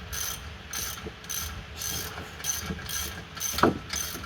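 A ratchet wrench clicks in quick regular bursts, about eight strokes, while working on the front suspension of a VW Transporter T5, close and crisp with no talking.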